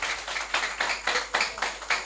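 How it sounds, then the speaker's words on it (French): A small group claps at an Ivorian radio gathering in Zinzénou, with steady, fairly quick hand claps, moderately close and unaccompanied by talk. "Ça peut s'applaudir"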